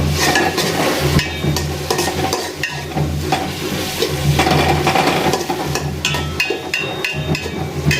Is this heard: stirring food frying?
yes